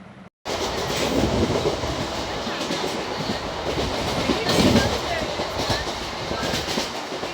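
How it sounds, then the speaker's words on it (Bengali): A passenger train starting to move, with a steady close rumble and rhythmic clickety-clack of wheels over rail joints from inside the carriage, loud and continuous. "এখন ট্রেন চলতে শুরু করেছে।"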